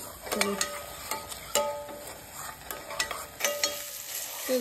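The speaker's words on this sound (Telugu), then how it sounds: "సో ఇప్పుడు ఇదంతా మంచిగా ఫ్రై చేసుకోవాలి." Ginger paste and spices frying in a little oil for a paneer handi curry, with a soft steady sizzle broken by repeated sharp scrapes and clinks of a spoon stirring the pan, close up and moderately loud.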